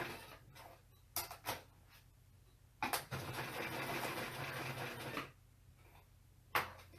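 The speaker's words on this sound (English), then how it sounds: "I'm gonna stitch around the ears now." A home sewing machine stitches around the ears of a fabric fox coin pouch, a quiet mechanical run lasting a few seconds between short clicks and knocks.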